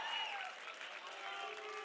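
A crowd at an MMA fight cheers and applauds in a steady, distant roar that holds for under two seconds.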